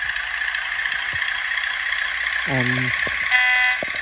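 Steady electric hum of an O gauge model LMS diesel locomotive with a short beep-like horn tone near the end, plus a brief higher buzzing tone, fairly close.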